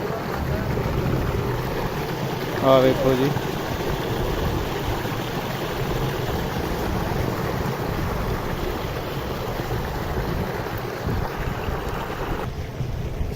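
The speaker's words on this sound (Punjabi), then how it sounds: "5 ਐਚਪੀ ਮੋਨੋ ਬਲਾਕ ਦੇ ਨਾਲ ਲਾਇਆ ਹੈ ਆ ਵੇਖੋ ਜੀ ਪਾਣੀ 4 ਇੰਚ ਪਾਣੀ ਬਣਿਆ" A solar-powered 5 hp monoblock pump pours a full four-inch stream of water on a farm, a steady broadband rush that continues under a man's brief speech and ends abruptly near the close.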